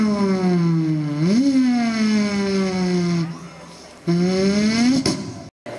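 A performer at a school arts festival mimics a racing car with his voice, a loud, near, sustained engine whine that rises, dips and rises again, shifting pitch like gear changes.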